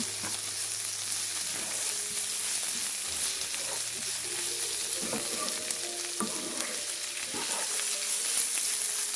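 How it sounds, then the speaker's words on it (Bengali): Dried prawns and four green chilies are stirred through frying bottle gourd in a pan, producing a continuous dense sizzle with repeated scraping spatula strokes, close and fairly loud, with no talk. "এখন এটাতে দিয়ে দিচ্ছি বেঁধে রাখা যে চিংড়ি শুটকি এবং চারটা কাঁচামরিচ সব কিছু খুব ভালোভাবে মিশিয়ে নিচ্ছি"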